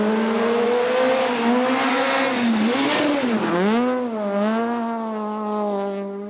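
A Ford Fiesta rally car engine revs hard during a rally and climbs in pitch, falls back briefly, then surges again, loud and close.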